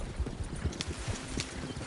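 Horse hooves clip-clop at an even walking pace in Red Dead Redemption 2, several soft thudding steps in quick rhythm, fairly quiet and close.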